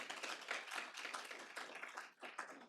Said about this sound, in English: everyone in this room deserves a round of applause for that accomplishment